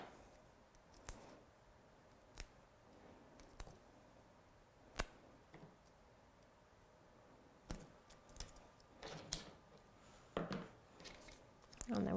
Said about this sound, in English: Using my meat scissors.